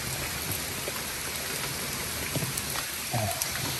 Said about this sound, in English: Rain too much.